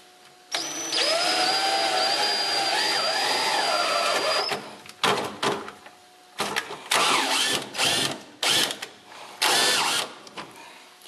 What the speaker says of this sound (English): I'm just going to screw these two together.